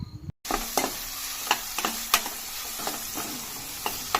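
Chopped tomatoes sauté with browned onions in a hot pan for a cashew curry, a steady close sizzle broken by sharp scraping stirs every half second or so.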